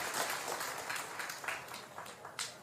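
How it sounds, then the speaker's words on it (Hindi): Audience applause at a devotional gathering, a steady wash of clapping hands that swells and fades over a few seconds, heard alone without talk. "ताली बजा दीजिए"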